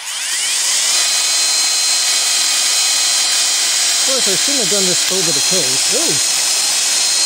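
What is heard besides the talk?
HOTO 12V cordless brushless drill driving a self-tapping screw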